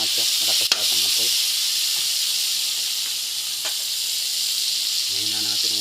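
Banana heart sautés in a pan over high heat, giving a steady, loud sizzling hiss throughout, while a person talks briefly at the start and again near the end.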